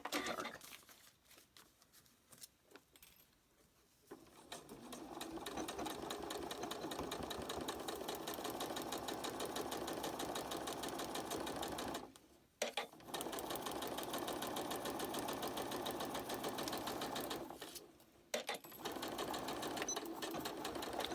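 A sewing machine stitches through paper and fabric for a paper-pieced flower, running in long steady bursts of fast rhythmic whirring, close and even, broken by a few brief stops.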